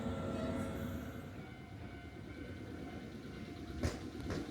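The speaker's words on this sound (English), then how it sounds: "we filmed the blue train coming in to join the awaiting green train" A blue Kada Line train pulls into a station where a green train already waits, its steady rolling rumble filling the scene before a couple of brief sharp squeals or horn-like bursts near the end.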